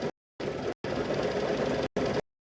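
An embroidery machine quilting through all three layers of a quilt held in a small 4-inch hoop gives a rapid mechanical whirring stitch in several short bursts separated by silent pauses, close and moderately loud.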